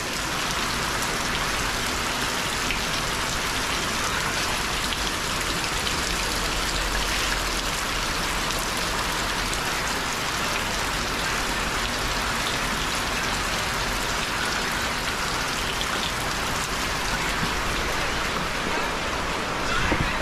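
Steady, heavy rain pours down continuously, a dense hiss of drops on surfaces with no pauses.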